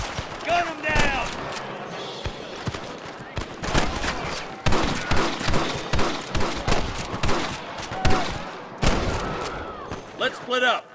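Gunfire in the video game Red Dead Redemption during a shootout with rustlers in Pike's Basin: rapid bursts of repeated sharp shots and volleys, loud and close, with game characters shouting in between.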